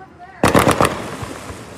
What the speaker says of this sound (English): the fireworks are literally the end of my street